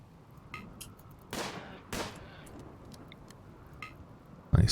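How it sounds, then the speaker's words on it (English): Lightning strike in the video game Rimworld: two sharp broadband cracks a half-second apart, each a sudden loud burst over a steady low game ambience, with a further loud burst at the very end. "Nice lightning strike."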